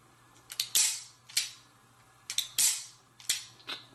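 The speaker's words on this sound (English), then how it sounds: "Double action trigger pull right here." Smith & Wesson Model 19 .357 Magnum revolver with internal lock, its double-action trigger pulled repeatedly: crisp, close mechanical clicks in quick clusters, each followed by a short metallic ring, with quiet gaps between.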